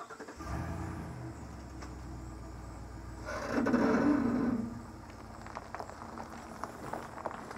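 A truck towing a horse trailer rolls onto a weigh scale, its engine rumbling at low speed and swelling briefly as it pulls forward, with faint creaks and clunks afterward.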